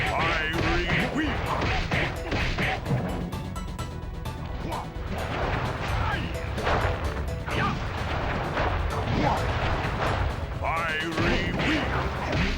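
Sly Cooper video game fight with firework attack explosions from the Flame Foo technique, a dense run of loud blasts, crashes and impacts over twelve seconds, with a voice shouting over the action.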